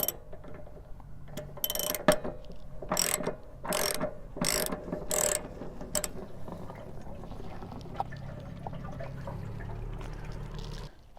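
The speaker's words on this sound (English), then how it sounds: "So mine is a 1 1/16 size socket here. So we'll go ahead and we'll just undo this." A ratchet socket wrench with a 1 1/16 socket works loose an RV water heater anode rod. It gives bursts of sharp, rapid clicking, close and distinct, followed by softer metallic handling and a faint trickle of water.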